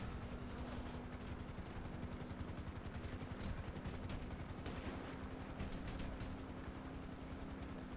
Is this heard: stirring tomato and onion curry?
no